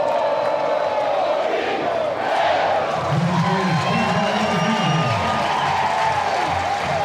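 Crowd noise at a college baseball game between Vanderbilt and Auburn, a dense, sustained roar of cheering and shouting that stays loud throughout, with a voice rising above the din midway.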